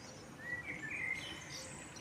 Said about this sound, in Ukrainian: Я навіть забула, що перед вечерєю пташки ще співають перед заходом, як сонце заходить.